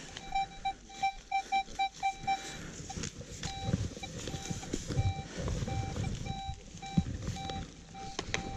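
An X-Terra metal detector gives a rapid run of short, steady beeps, then more scattered repeated tones over rustling and scraping ground noise outdoors, the signal clear and close.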